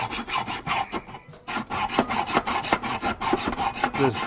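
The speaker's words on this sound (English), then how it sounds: "I start cutting this" A hand saw cuts through a metal bolt for a cigar box guitar build, making quick, even rasping strokes, close and loud, with a brief pause near the start.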